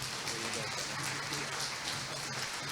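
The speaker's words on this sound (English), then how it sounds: "A big round of applause for Father John Pert." Faint, steady clapping from a church parish audience at a 25th anniversary gathering, a soft continuous patter with some low background hum.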